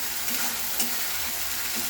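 Spice paste for a Bengali katla fish kalia fries in a pan, a dense steady sizzle broken by soft rhythmic scrapes of quick stirring, close and with no talking.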